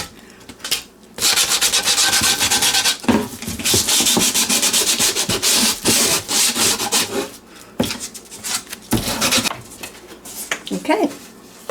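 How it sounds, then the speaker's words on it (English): Fine sandpaper rubbed back and forth over a painted wooden sign, loud, close, continuous scratchy strokes with brief pauses between passes, no voices over it. "we're going to take a fine piece of sandpaper and we're going to sand it down"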